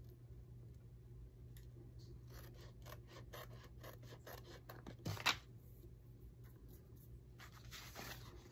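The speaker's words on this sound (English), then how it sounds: "Let me just trim this a little bit." Scissors trim paper for an envelope folio, with a few faint, soft snips and scraping cuts over quiet room tone.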